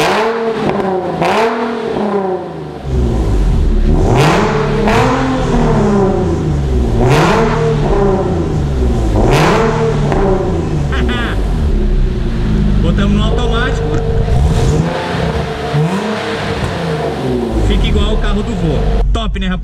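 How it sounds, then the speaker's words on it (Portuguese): Nissan 370Z fitted with a new aftermarket exhaust, engine revving loudly and repeatedly in rising and falling sweeps, sustained throughout, with someone talking over it. "O que vocês acharam do ronco novo do 370Z?"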